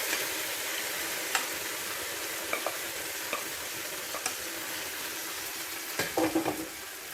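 Pumpkin and plantain erissery curry being stirred in a hot pan, with a soft continuous sizzle under scattered scraping and clinking strokes of the spoon, and a brief cluster of louder scrapes near the end.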